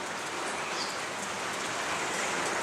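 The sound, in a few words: rain falling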